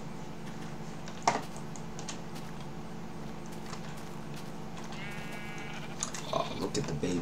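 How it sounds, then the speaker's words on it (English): Baby sheep bleating in the video game Minecraft, a short wavering bleat near the end over steady background game ambience, mixed with light computer keyboard clicks and a brief knock. "Oh, look at the baby sheep."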